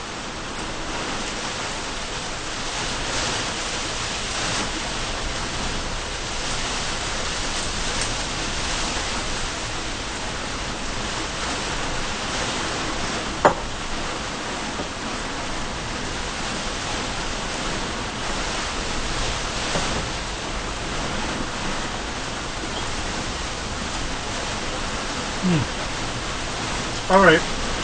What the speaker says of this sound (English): it's so loud with the rain pelting and hitting the sides of the van and the roof